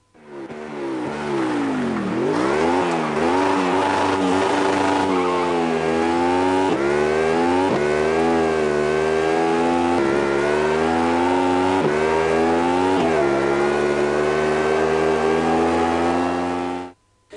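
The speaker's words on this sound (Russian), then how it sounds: "Звуковое сопровождение в основном состоит из рева форсированных двигателей и скрежета раскаленных тормозов" A high-revving video game motorcycle engine roars continuously and loudly, its pitch rising and falling as the bike accelerates and shifts.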